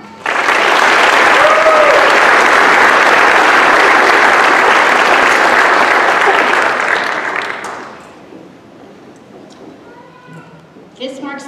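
Loud, sustained audience applause at a school awards night fills the room for about eight seconds, then fades out, leaving quiet room tone and a few faint stray sounds near the end.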